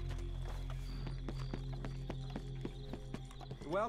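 Horse hooves clip-clop steadily on a hard surface in Red Dead Redemption 2, a regular walking rhythm of distinct hoof strikes heard up close over a low, steady game ambience and music.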